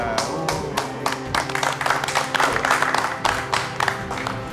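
Children clap together on a televised cooking competition set, producing a steady, brisk patter of handclaps with rhythmic accents, close and fairly loud, continuing for several seconds without a break.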